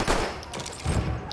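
Rapid rifle fire from an M1907 in a World War One video game at Fort de Vaux, a few loud close bursts crackling over battlefield din, brief and intense.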